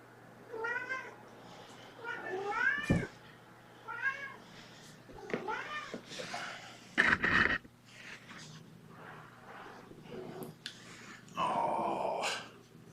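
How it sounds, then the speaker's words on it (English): Kittens meow in a series of short, faint calls spaced across the stretch, with quiet rustling and a soft voice in between. "Meow, meow."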